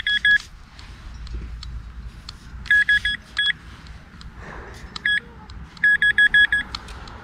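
A metal detector sweeping a field for coins gives repeated bright electronic beeps in short clusters, some tones doubled or stacked, over a quiet outdoor background with low wind rumble.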